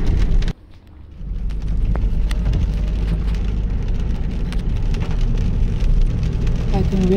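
Rain falls outdoors in a loud, continuous hiss and patter after a brief quieter moment at the start, with a low rumble beneath it.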